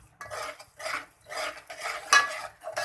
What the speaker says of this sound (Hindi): सूजी की भुनाई कर रहे हैं हम।